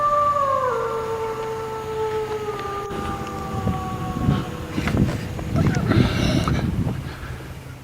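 A long wavering howl in a foggy forest, attributed to Bigfoot, rising then sliding slowly downward and fading, followed by rustling and scattered noise close by.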